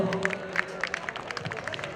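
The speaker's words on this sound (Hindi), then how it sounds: "अमजद खान साहब फ्रॉम हमजा जिम, उनके लिए एक बार जोरदार तालियां हो जाए दोस्तों।" Scattered hand claps and crowd noise from an audience at a college annual function, a brief burst of uneven clapping with low murmuring underneath.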